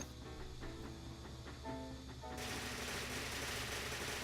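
Manual fire machine guns in the LuckCatchers video game rattle in fast, continuous bursts, loud and steady with no talk.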